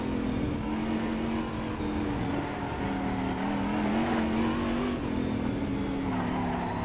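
A Corvette DP race car in Assetto Corsa roars at high revs with a steady, buzzing engine note that rises and dips through gear changes, loud and continuous with no talking.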